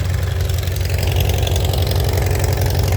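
An engine idles on a cold day, a loud, steady low rumble with an even throb that holds unchanged throughout.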